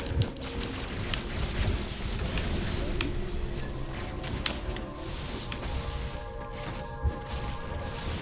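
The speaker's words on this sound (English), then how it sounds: "I think it's raining in real life as well." Steady rain hiss in a game scene from Metroid Dread, a broad continuous wash with a few sharp cracks and faint tonal game sounds layered over it, moderately loud throughout.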